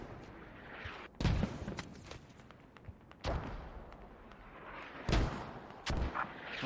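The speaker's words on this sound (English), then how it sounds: "Mortars incoming north of you" Mortar blasts and gunfire from a competitive video game match crack out as several sharp, heavy booms spaced a second or two apart, with lighter pops and rumbling battle noise between them.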